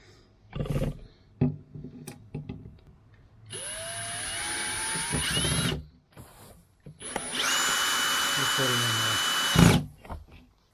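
A power drill drives screws while an AC outlet is fitted during a queen-to-king bed conversion, with a few short whirring bursts and then two longer, rising, high-pitched runs, close and loud, separated by quiet handling sounds.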